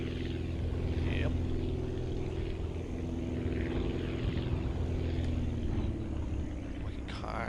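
A propeller aircraft engine in the building game Aviassembly drones steadily with a loud, continuous buzzing hum that shifts slightly in pitch, while someone talks over it.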